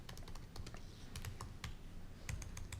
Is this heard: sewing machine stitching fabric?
no